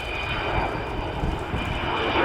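The Avro Vulcan XH558 delta-wing bomber roars past during an air show display at RIAT, bomb doors closing, its jet engines producing a loud, steady, broad rumble with no voices.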